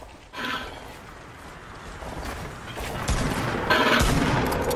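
Rapid gunfire from a Fortnite match, bursts of shots continuing across the moment and building louder toward the end, with no talk over it.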